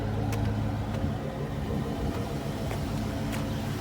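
A Chevy car engine idles steadily at close range, a low, even rumble with faint ticking, no voices over it.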